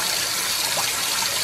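Water pours steadily into clay cooking pots in a Mexican kitchen, a continuous broad gushing splash, close and fairly loud, with no voices.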